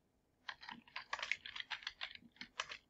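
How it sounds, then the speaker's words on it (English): Fast bursts of keystrokes on a computer keyboard, entering a search term into a virtual world viewer, clicking in quick irregular clusters, close and moderately loud with no talking. "I'm going to start typing in Kitely Welcome"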